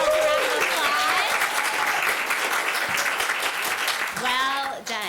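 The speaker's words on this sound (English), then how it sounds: "Give yourselves a round of applause." Audience applause at a 4-H public speaking contest, steady clapping from a room full of people lasting several seconds, with a person talking over it near the start and end.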